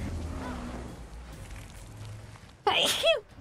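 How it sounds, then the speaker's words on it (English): One sharp, loud sneeze from a nearby streamer bursts out at the end, after quiet low background sound from the Guild Wars 2 game. "I must sneeze."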